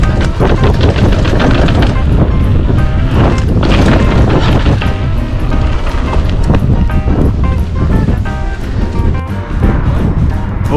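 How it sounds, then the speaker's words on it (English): Strong wind buffeting at the Southsea seafront in Portsmouth near the castle, loud continuous roaring gusts dominating throughout, with surf and distant traffic blending underneath. "You can hear the wind."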